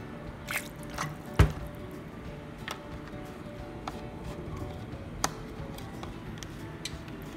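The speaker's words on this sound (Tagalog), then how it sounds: "Lagyan natin ng toyo." Soy sauce poured into a pot while cooking boneless pork leg, heard as faint, sparse drips and small splashes with no talking.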